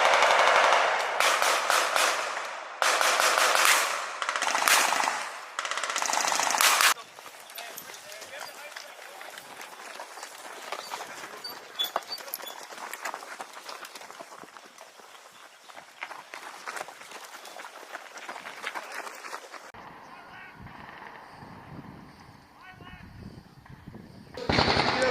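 U.S. Army 6.8mm M250 machine gun firing loud full-auto bursts up close, followed by sustained rattling fire and movement during an assault on a building.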